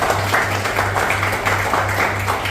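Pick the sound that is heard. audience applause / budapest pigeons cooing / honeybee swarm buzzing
audience applause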